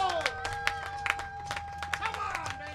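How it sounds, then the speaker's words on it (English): A high school Thursday night football crowd at San Tan Charter versus Scottsdale Christian Academy cheers with scattered claps and shouts, fairly faint and steady, with announcer-like tones and voices mixed in. "Crowd is going crazy"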